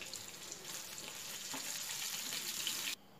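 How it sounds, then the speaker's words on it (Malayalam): Chicken pieces fry in hot oil for a chicken cutlet, giving a steady, moderately faint sizzle with occasional stirring clicks, ending abruptly near the end; no talking. "നമ്മുടെ ചിക്കൻ എല്ലാം ഫ്രൈ ആയി വന്നിട്ടുണ്ട്."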